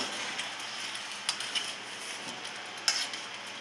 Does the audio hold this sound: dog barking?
no